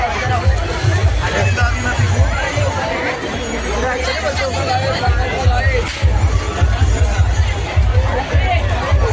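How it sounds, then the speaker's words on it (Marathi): A large crowd mills about at a village fair (yatra) in Khopoli, a dense babble of many voices with nearby chatter and footsteps, loud and continuous throughout. "तुम्ही पाहू शकता गर्दी खूप वाढलेली आहे"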